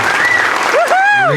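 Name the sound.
applause for Jeremy, Ben and Deb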